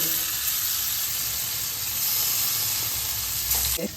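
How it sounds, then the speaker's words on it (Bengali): Paneer frying gently on low flame in hot oil with turmeric and Kashmiri chili powder, a steady close sizzle and hiss with a faint clatter near the end, no voices. "পনিরটাকে আমি লো ফ্লেমে ভেজে নিচ্ছি"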